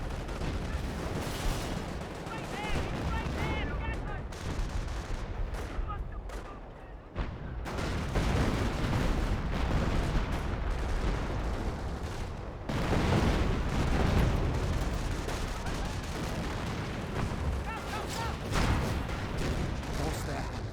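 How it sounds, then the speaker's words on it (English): Sherman Firefly tanks firing their guns in Company of Heroes, amid a dense battle of booming shots, explosions and gunfire that runs throughout, with a commentator talking over it. "Fireflies firing away."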